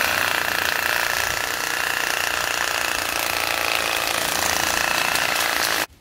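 A Bosch GSA 18V-LI cordless reciprocating saw cuts through a cashew tree branch about 80 mm thick, a steady, loud mechanical buzz running unbroken for nearly six seconds before stopping abruptly.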